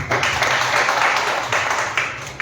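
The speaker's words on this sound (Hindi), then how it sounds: "पुनः तालियों से इस्तकबाल करिए मोहतरमा का।" Steady applause from a poetry-evening audience in Lucknow, many hands clapping together in a dense, continuous patter that swells and eases slightly.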